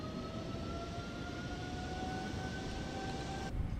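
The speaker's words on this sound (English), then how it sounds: "Got to hear those GE 90s roaring." A simulated PMDG 777 in Microsoft Flight Simulator 2024 roars on its GE90 jet engines at takeoff power, a steady broadband rush with a faint rising whine, constant throughout and cut off at the very end.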